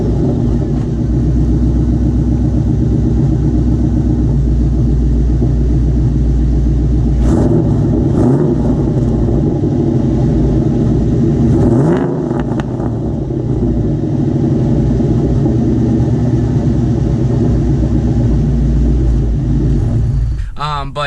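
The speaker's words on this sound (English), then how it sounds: "this car specifically has BBK headers and Bassani exhaust, and it sounds fantastic" A 1999-2004 New Edge Ford Mustang fitted with BBK headers and a Bassani exhaust rumbles at a steady, loud idle, with two brief throttle blips partway through.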